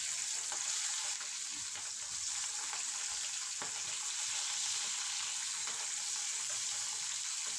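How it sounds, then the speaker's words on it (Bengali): Bata fish sizzle in a pan of hot oil, a continuous, even crackling hiss heard up close with occasional faint taps from turning the pieces. "এপিঠ ওপিঠ করে মাছগুলো ভেজে নিতে হবে"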